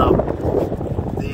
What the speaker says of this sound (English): So it's a little windy today.